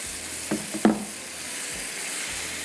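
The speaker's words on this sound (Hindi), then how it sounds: "इसके अंदर जाएंगे चिकन के पीसेस" Chicken pieces sizzling as they go into hot hara masala in a pan, a steady soft fry with two brief clattering knocks near the start, no talking.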